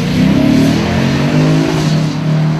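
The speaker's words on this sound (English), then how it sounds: "wait until you hear what the IS-F sounds like in anger" A Lexus IS-F's big V8 revs hard toward its 6,800 rpm redline, a loud, close, rising and falling engine roar with shifting pitch, heard alone.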